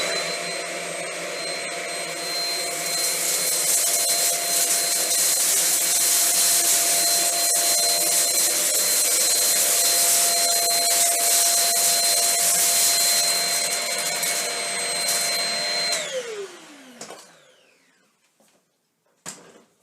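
A Shark Rocket stick vacuum runs on a tile floor with a steady high whine and airy rush, then powers down with a falling pitch and leaves a few faint clicks and bumps.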